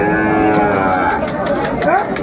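A bull calf moos loudly and close by at a cattle market, a drawn-out bellow rising near the end, with faint chatter in the background.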